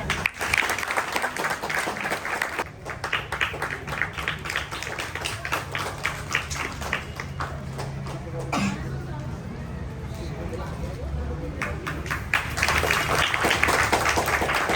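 Audience clapping at a Guru Purnima children's values program, steady broadband applause with murmured voices and chatter mixed in, briefly thinning in the middle before swelling again near the end.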